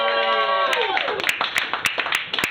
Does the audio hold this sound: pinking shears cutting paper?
no